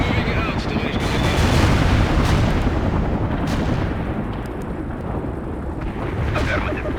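Heavy artillery barrage in the real-time strategy game World in Conflict, a loud, sustained rumble of overlapping booms and blasts that fills the scene, with a voice faintly present underneath.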